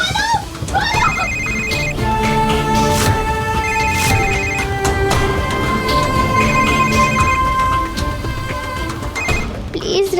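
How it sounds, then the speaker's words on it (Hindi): A telephone rings continuously with a bright electronic tone, loud and close, repeating its melodic pattern without pause. "प्लीज राधा, फोन उठो।"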